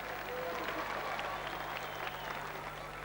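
A crowd at the 1993 World's Strongest Man contest applauds a competitor, a dense, steady wash of clapping heard from a distance at low level.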